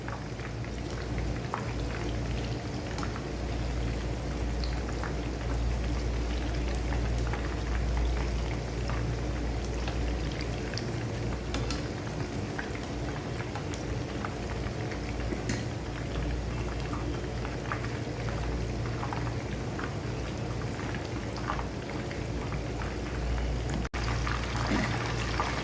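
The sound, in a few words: fish frying in a pan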